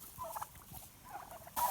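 Farm turkeys gobbling in short, rapid bursts at moderate distance, with a louder burst of calls at the end.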